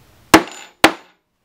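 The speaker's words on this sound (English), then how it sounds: "then you're going to hit it with a hammer" Two sharp hammer strikes on pen loop caps, evenly spaced about half a second apart, close and loud, each with a short ringing decay.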